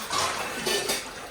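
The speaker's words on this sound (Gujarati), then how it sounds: "એક જણ એક વાસણ ઘસે, વાસણ લુવા, વાસણ ઘસે" Metal pots and utensils clank and scrape briefly up close as two women scrub dishes in cold weather, with no one talking.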